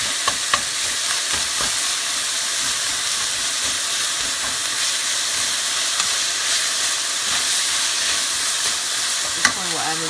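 Ground beef is broken into smaller pieces as it fries with onions in a pan, giving a loud, unbroken sizzle and hiss with occasional clicks of the utensil against the pan.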